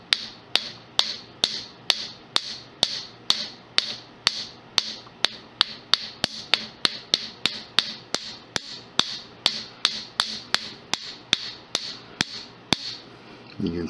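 A jeweler's hammer strikes copper wire on a hard surface, a steady run of about forty sharp metallic taps at a brisk, even pace, close and clear with no talking.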